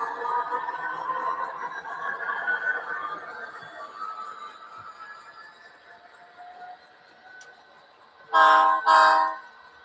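BNSF model train running on a loft layout, a soft rolling hum and rattle that fades as it moves away, followed by two short, loud horn toots close together near the end.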